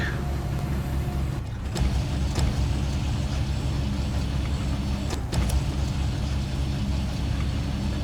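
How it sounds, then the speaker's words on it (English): Ford F-750 truck with crane and bed attachments driving in SnowRunner, a steady loud engine drone with rumbling low end throughout and two brief sharp clanks along the way. "I got the Ford F-750 out, along with its crane attachment and its bed attachment"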